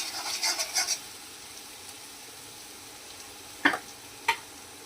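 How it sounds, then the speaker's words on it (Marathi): Asafoetida, green chili and garlic sauté quietly in oil for Gujarati methi dhebra, a faint steady sizzle marked by a few brief scraping stirs. "तर आपण हिंग आणि हे मिरची आणि लसूण टाकलं आहे. याला थोडं चांगलं परतत आला"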